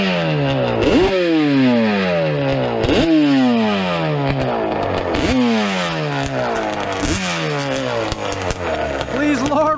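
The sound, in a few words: Yamaha Banshee ATV engine revving with Amazon carburetors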